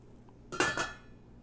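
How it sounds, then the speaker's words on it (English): A metal lid dropped onto a pot of eggs and water, a quick pair of close clanks with a short metallic ring, alone in a quiet kitchen. "I'm going to throw the lid on it."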